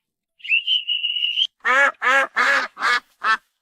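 A long, steady whistle tone, then five loud, close duck quacks in quick succession.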